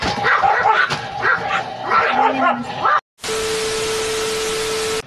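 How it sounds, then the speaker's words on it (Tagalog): Several dogs bark and yip in quick bursts at close range, followed by an abrupt cut to a steady hiss with a constant tone. "Nag-ingay na naman yung mga aso ko."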